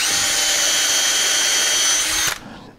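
A power drill whines loudly and steadily for about two seconds while drilling into hard babinga wood, then cuts off and spins down into quiet.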